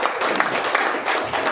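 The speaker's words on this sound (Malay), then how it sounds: "sekali lagi tepuk tangan yang ikhlas untuk mereka" An audience applauds guests at a music workshop, a short stretch of dense, even clapping from a small crowd, fairly close and heard alone.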